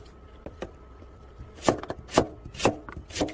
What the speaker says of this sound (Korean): 맨날 칼질해야 되니까